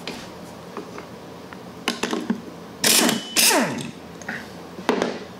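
Wrench working on a 3/4 inch nut on a Kohler 149cc lawn mower engine: a few sharp ratcheting clicks and metallic clanks in short bursts, close and clear, with two louder grinding pulses in the middle.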